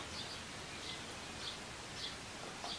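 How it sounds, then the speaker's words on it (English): Birds sing faintly in a backyard, a few soft, evenly spaced chirps over a quiet, rustling outdoor background. "the birds are singing"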